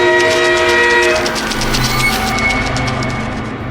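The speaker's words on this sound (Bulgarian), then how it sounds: "Най-вероятно, това е Чучу Чарлз, който тича към свирката си" Choo Choo Charles, the monstrous train from the video game, bears down with a loud sustained horn blast over heavy rumbling rail noise and clatter, close and overwhelming, slowly easing off.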